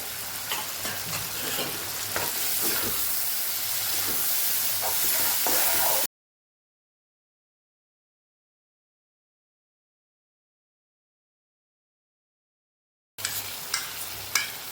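Okra added to a yogurt masala frying in oil in a pan for a Kathiyawadi dahi bhindi curry, a loud close sizzle with scraping stirs, then a long silence before the sizzling and stirring resume, no talking.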